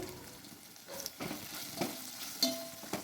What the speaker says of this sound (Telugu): చూడండి ఇంత బాగా ఫ్రై అవ్వాలన్నమాట